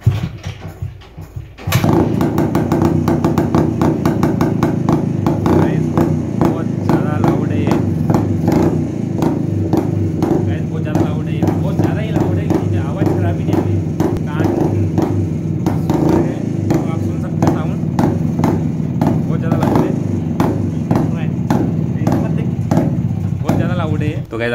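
A Rajdoot 175 motorcycle with its silencer removed starts after a brief pause and runs loud and close, a harsh rapid popping exhaust that revs and settles in a continuous throbbing idle.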